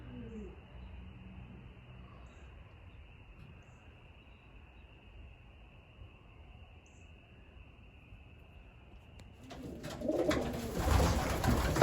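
Racing pigeons in a loft coo softly in a low, steady murmur for most of the stretch, then louder rustling and bird noise swell near the end.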